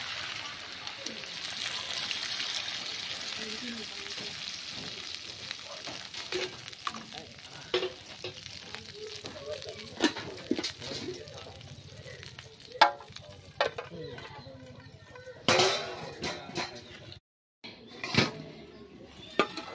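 Potatoes, pumpkin and tomato with a splash of water fry in a pan, giving a soft continuous sizzle broken by scraping stirs and utensil clinks, while a person talks over it.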